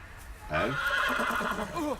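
A horse in a Game of Thrones video game lets out a loud, close whinny that starts abruptly and trembles as it rises and falls for about a second and a half, standing alone.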